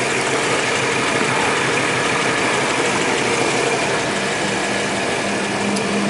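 A 1954 Dodge Royale convertible's Hemi engine idles steadily in a continuous, even rumble that stays loud throughout without pauses.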